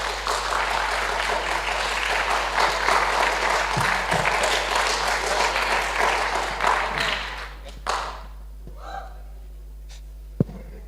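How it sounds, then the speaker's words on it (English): Audience at a prize giving ceremony applauds in a full, steady round of clapping that cuts off after several seconds, leaving a quiet room with a few faint knocks and a low hum. "Let's give them a round of applause."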